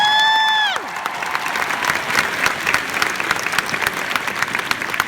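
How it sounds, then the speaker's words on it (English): Audience applause at the Wizard World Philadelphia 2016 convention panel with Chris Hemsworth and Tom Hiddleston, breaking out right after a sustained tonal sound cuts off and continuing as brisk, crowded clapping with light cheering. "Let's give him a round of applause."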